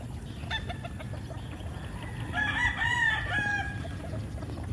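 Gamefowl chickens and roosters on a large Philippine breeding farm cluck steadily while a rooster crows loudly at mid-distance, with other birds calling faintly around it.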